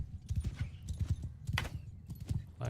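Horses' hooves clip-clop over rough terrain in Mount & Blade II: Bannerlord, a quick, uneven run of overlapping thuds from several animals, close and steady with no voices.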